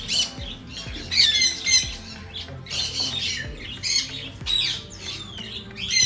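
Parrots at a bird rescue in Michigan squawk loudly and repeatedly, harsh overlapping calls filling the space in dense bursts with scattered chirps between, nearby and continuous, no voices.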